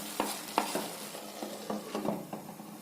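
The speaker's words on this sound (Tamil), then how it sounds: "இது நல்லா கலக்கி விடுங்க" Drumstick gravy with fennel and coconut masala stirred in a sizzling pan, giving a series of scraping spoon strokes about every half second over a steady soft frying hiss.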